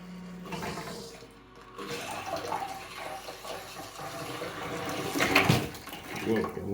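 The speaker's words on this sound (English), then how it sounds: "Should have water coming out." Water gushing from a newly installed bathtub faucet during a tub and shower trim update, a steady rushing flow that swells louder toward the end, with a voice speaking briefly.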